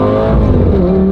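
A Lamborghini reversing uphill in its E-Gear automated transmission, engine loud and close with a steady, strained rumble throughout, no talking.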